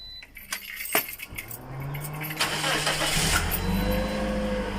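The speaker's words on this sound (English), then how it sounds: "I actually turned on the car ignition to be able to control the wheel" A car ignition is turned on and the engine starts: a brief jangle of keys, then the starter whirs and the motor catches, settling into a steady, close idle.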